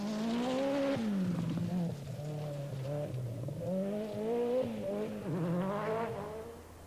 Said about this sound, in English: Mark Lovell already just outside the top 10 in the RS 200.